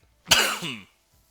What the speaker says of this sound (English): Okay, that was another just cough that snuck up on me.